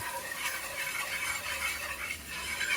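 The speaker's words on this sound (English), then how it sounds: "We're gonna add our milk, whisk it in, and we'll be good" A whisk stirs milk into a roux of flour and fat in a pan, giving a continuous scraping, swishing sound with quick rhythmic strokes, close and fairly loud, with no talking.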